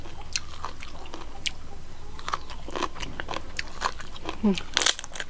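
Crunchy bites and wet chewing of fresh stone crab eaten with spicy som tam papaya salad, a series of close crackling crunches with a brief murmur near the end.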